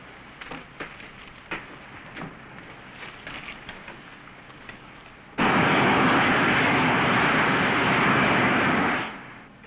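A film soundtrack's aircraft engine in flight begins after a stretch of quiet clicks and rustles, then roars in abruptly as a loud, dense, steady drone before cutting off near the end.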